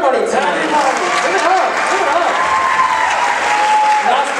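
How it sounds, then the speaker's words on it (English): A talent show audience claps loudly and steadily, with dense, close applause filling the whole stretch without a break. "give a round of applause for everybody tonight"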